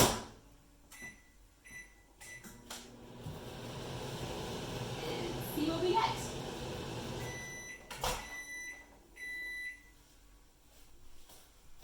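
A steady low hum of a microwave oven running for several seconds, with a few faint beeps and clicks near the start and end.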